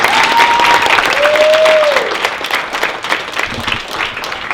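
At a pageant an audience applauds and cheers, the clapping loud at first and then tapering into a thinner patter, with a couple of whoops rising above it.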